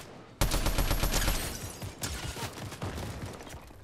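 Rapid automatic gunfire from a Fortnite match, a dense burst of loud, close shots followed by further uneven volleys with no talking.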